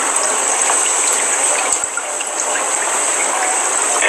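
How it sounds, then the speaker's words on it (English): Water running steadily through a siphon pipe between two sinks, a constant close hiss and gush that holds the same level throughout with no talking. "So then when you put it in one side, the water comes out the other."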